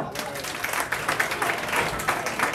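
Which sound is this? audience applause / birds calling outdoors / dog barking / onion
audience applause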